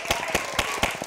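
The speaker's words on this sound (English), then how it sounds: "Let's give a round of applause to all of these people." Brief applause from an audience: a few loud, rhythmic claps about a quarter second apart over a soft wash of background clapping.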